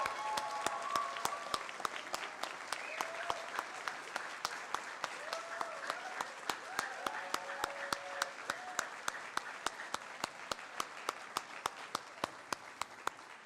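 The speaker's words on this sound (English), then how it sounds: "So let's all give them a big round of applause." A graduation crowd at a university honors college spring ceremony gives a long round of applause, with a few steady, prominent claps standing out above the dense clapping and faint voices underneath.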